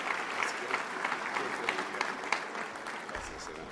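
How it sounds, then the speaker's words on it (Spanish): A church congregation at an evening religious gathering in Chile gives a sustained round of applause, with dense clapping and a faint crowd murmur underneath. "damos un aplauso porque Dios lo trajo"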